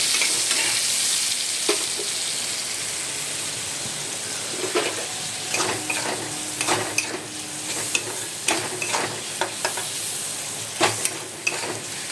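Potatoes frying in a pan with rendered fat give a steady close sizzle, while a utensil stirs through them with scattered scrapes and clicks, no voices present.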